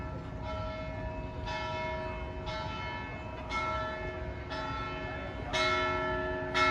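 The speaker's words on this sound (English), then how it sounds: "Quite fun that the bell is very far below me." A church bell rings far below a mountain vantage above Barcelona, struck about six times in a steady rhythm with ringing harmonics that linger between strikes over a constant background hum.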